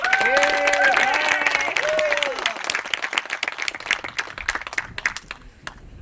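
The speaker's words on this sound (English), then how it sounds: "Let's give him a round of applause." A crowd at an outdoor groundbreaking ceremony for a town water system rebuild gives a sustained round of applause and cheers. The clapping is dense and loud at first, then thins into scattered claps, with voices mixed in.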